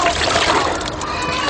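Water splashes and sloshes continuously at moderate volume as boys back home from mine work wash grime off themselves.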